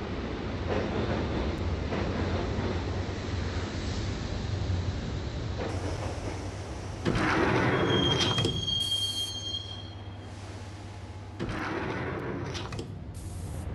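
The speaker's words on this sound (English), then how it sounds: "the train doors had already shut behind me, and I was in for the ride" A video-game train rides toward a station with a steady rumbling roll of wheels on track, broken by bursts of louder clatter and a high metallic wheel squeal partway through, with no voices.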